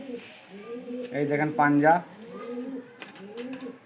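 Giribaz pigeons give soft repeated coos close by, mixed with someone talking over them through most of the stretch.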